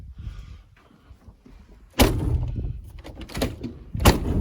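A Land Rover 90 door closes with a sharp metallic slam, followed by rattling handling noises and a second thud shortly after, close by.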